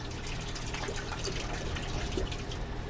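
Water pours from a pried-open pipe patch in a horror video game, a steady broadband rush that holds at an even level throughout with faint splashy detail and no talking.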